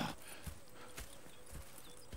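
Horse hooves in Red Dead Redemption 2 clip-clop in a slow, even rhythm, soft and somewhat distant, with faint ambient noise behind.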